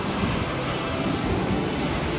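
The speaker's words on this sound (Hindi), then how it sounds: "क्या आवाज़ है पानी की।" A mountain stream near Hemkund Sahib rushes loudly and steadily, a dense, even hiss of flowing water with no breaks and no voices.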